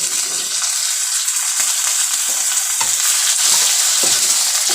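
Broad beans (sem phalli) fry and get stirred in a pan with ginger, giving a continuous, bright, hissing sizzle with occasional soft stirring knocks, close and steady throughout.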